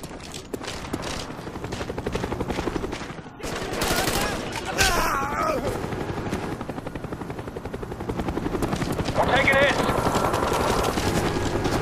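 In a military video game, a friendly Cobra attack helicopter arrives with loud rotor thumping over bursts of gunfire and explosions, while a voice speaks over the battle.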